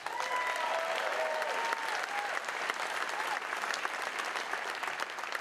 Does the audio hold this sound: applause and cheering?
yes